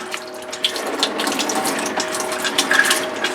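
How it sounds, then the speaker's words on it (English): Water gushing steadily from a boat's plumbing line while its systems are winterized before haul-out, a continuous close, loud splashing rush with no talk. "blast of the water out of the line"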